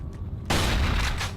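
A single gunshot fires in the survival horror video game Cold Fear. A sudden, loud, broadband blast hits about halfway through and then rings out with a booming tail.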